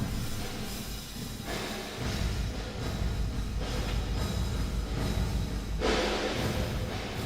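Airwindows Verb Tiny reverb plugin applied to a mix, giving a soft wash of sound at low level with faint pulses and swells over about seven seconds, no voices.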